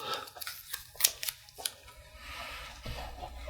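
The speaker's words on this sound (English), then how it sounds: "I'm going to go ahead and tape down the rest of the cell." Tape being torn and pressed down to fix an animation cel in place, heard as faint close crinkles and a few sharp rips, then a soft smoothing rustle.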